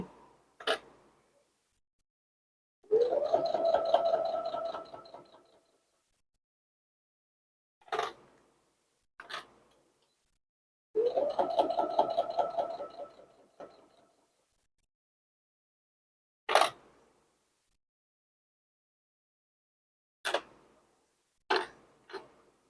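A home sewing machine stitches a quarter-inch seam through a quilt block for a sawtooth star pillow, its motor whirring in two short runs of a few seconds each, with sharp clicks and taps in between and no talking.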